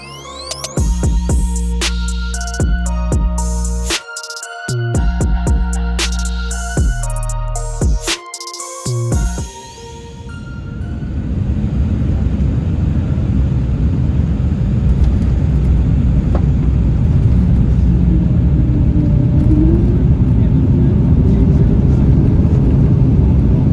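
A Porter Airlines Embraer E2 jet lands at Ottawa on runway 07, heard from inside the cabin as a steady loud rumbling roar that builds and holds after an earlier stretch of choppy sounds.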